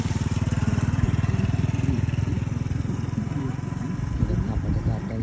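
Motorcycle engine running steadily while riding through flood water near Phaya Tao Ngoi, a loud continuous low drone with rising splashy texture toward the end.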